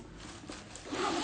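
A zipper on a Celine luggage tote bag is pulled along its track, a quiet ratcheting rasp that grows louder and brighter toward the end, heard alone without talk.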